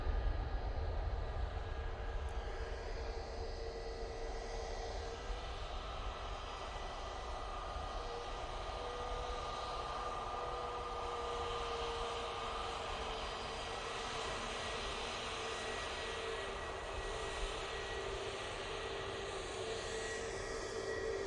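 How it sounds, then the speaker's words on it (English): An SAS airliner bound for Oslo rolls down the runway at Manchester Airport, its engines a steady, broad jet roar held at an even level throughout, mid-distance and continuous with no voices. "SAS now on the roll."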